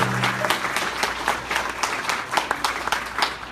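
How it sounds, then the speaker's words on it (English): A college completion ceremony crowd applauds its construction craft worker graduates with a busy, scattered round of clapping that stays fairly loud and continuous, plus faint crowd murmur underneath. "Let's give a round of applause."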